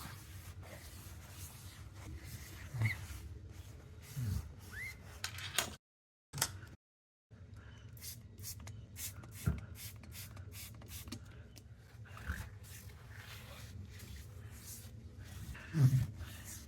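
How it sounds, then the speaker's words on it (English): A scraper rasps over a window, taking off old black paint and white paint from an earlier paint job, in short scratchy strokes with pauses. The sound is fairly quiet against a low room background. "I am now scraping off some existing black paint that we had gotten on and some white paint from the previous paint job"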